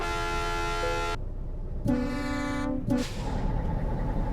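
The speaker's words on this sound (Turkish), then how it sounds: "Vay kornaya bak." Loud truck horn blasts in Euro Truck Simulator 2 with a Middle East map mod, a long multi-tone honk, a pause, then a second shorter honk over steady engine drone, no talk.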